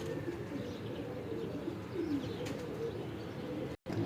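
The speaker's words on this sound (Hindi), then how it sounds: "ये एक ऊंची का कबूतर भी आया साथ इसके" Pigeons coo steadily and close by as a purple-colored pigeon joins a female in a pigeon loft, with a continuous low murmur and no speech.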